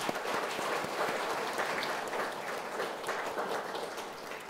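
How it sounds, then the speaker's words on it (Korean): A church congregation at a baptism and confirmation service on Easter Sunday bursts into sustained applause, many hands clapping together at medium distance for several seconds. "박수 한번 하겠습니다."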